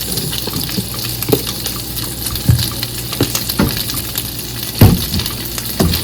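Bacon cooking in a pan gives a steady close sizzle and crackle, with occasional louder pops and spits breaking through the hiss.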